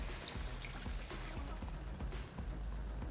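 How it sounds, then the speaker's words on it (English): Water is poured into tomato sauce for baked pork ribs, a soft continuous trickle and splash close by, quiet and steady with no voices. "Now we're gonna add some water."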